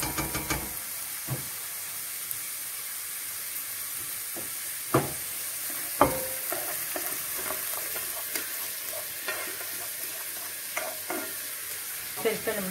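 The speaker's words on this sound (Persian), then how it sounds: "فلفلمون لوبیامون با مواد به هم میزنیم." Green beans, peppers and other ingredients fry in a pan for a Persian bean rice dish, a constant sizzle broken by sharp scraping knocks as a utensil stirs them, with no talking.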